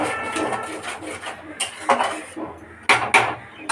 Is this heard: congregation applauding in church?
no